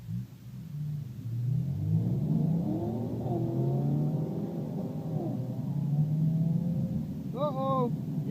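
A Camaro accelerates hard in a street race against a Civic, its engine rising in pitch through gears with a loud, sustained roar, and a voice shouts over it near the end.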